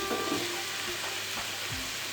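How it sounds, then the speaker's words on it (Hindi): Chopped vegetables, including cabbage, carrot and green onion, fry in three tablespoons of cooking oil with a steady close sizzle, broken by a few soft stirring knocks, and no talk. "3 टेबलस्पून कुकिंग ऑयल के अंदर इन्हें तलूंगी।"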